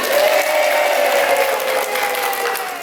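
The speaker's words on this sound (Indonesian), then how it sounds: "Tepuk tangan anak-anak." Children applauding at a training session, a dense, steady roar of many hands clapping at once, loud and continuous, with faint vocal tones mixed in beneath.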